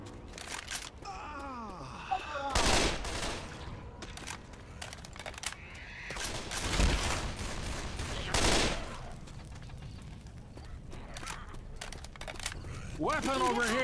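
Video game gunfire, with several loud bursts of shots spaced across the span and quieter single cracks between them, mixed with voices and other game sounds.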